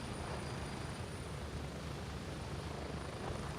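A helicopter in the military shooter game Gray Zone Warfare drones with a constant, muffled rotor and engine hum, steady and fairly quiet, with no voices.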